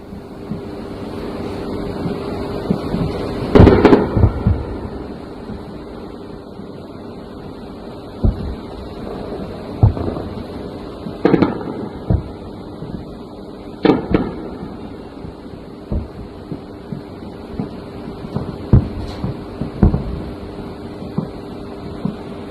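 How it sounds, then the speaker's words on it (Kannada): Bomb blasts from a US airstrike at the Iran–Iraq border thud at a distance as a series of separate booms spaced several seconds apart, over a low, wind-blown rumble with no voices. "ಇರಾನ್ ಇರಾಕ್ ಗಡಿಯಲ್ಲಿ ಅಮೆರಿಕದಿಂದ ಬಾಂಬ್ ದಾಳಿ"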